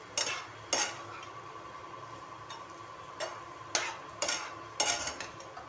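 A spoon stirring eggplant in a pan with amchur powder added, heard as scattered scraping strokes over a faint steady sizzle, close and without talk.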